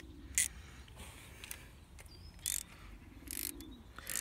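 Metallic ratchet clicks come in short bursts as small glow plug screws are tightened on a Kubota diesel engine in a small licence-free car, with quiet pauses between them.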